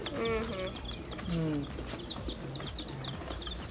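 Chicks cheep in high, quick chirps over clucking hens and rooster-like calls, a busy close flock of poultry.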